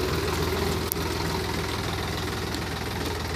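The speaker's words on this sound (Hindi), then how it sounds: "सोनाल का टाइगर सीरीज का ट्रैक्टर है गाइस, 52 HP का ट्रैक्टर है" Sonalika DI 50 RX Tiger 52 HP tractor idling with a steady, throbbing diesel rumble close up, running evenly throughout with one brief click near the start and no voices.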